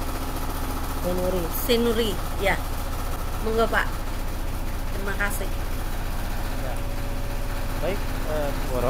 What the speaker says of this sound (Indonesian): Suara mesin cuci, Pak.